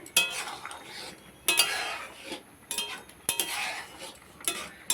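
A utensil scrapes and clinks against a pan while mango chutney with cracked cardamom pods is stirred, in several distinct bursts of scraping separated by short pauses, close and fairly quiet.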